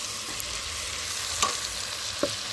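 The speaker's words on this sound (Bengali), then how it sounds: "তো এটা ভালো করে একটু কষানো হবে" A ginger, garlic, onion and tomato spice paste sautés in a pan, giving a steady close sizzle with a couple of sharp spoon clicks as it is stirred.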